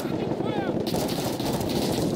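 Dense, continuous gunfire in Call of Duty: Warzone, Rumble mode, sharp shots packed into a steady loud barrage with a brief whistling streak early on.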